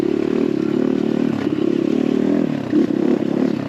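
An X Pro Templar 250cc dirt bike ridden along a trail, its engine droning steadily and close with slight rises in revs and faint clatter from the terrain, no talk.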